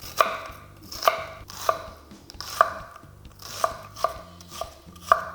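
A knife chops onion for fish sisig, landing about eight crisp, evenly spaced strokes on a board, each one close and distinct.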